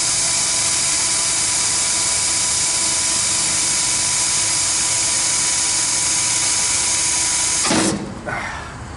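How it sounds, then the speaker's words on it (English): Power drill boring into a refrigeration compressor part, a loud steady high whine held close for several seconds before cutting out abruptly, followed by softer handling noise. "Gotta be careful when you're drilling."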